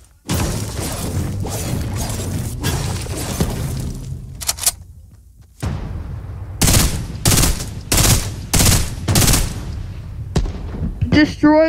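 Buildings at Lazy Lake in Fortnite are torn down in a rapid series of loud crashes, shattering hits and gunfire-like bursts, with one brief lull midway before the pounding destruction resumes in quick repeated blasts.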